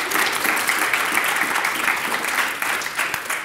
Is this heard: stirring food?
no